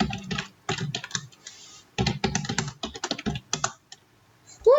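Keys clatter in quick bursts on a computer keyboard while JavaScript code is written, with short pauses between runs and a brief vocal sound right at the end.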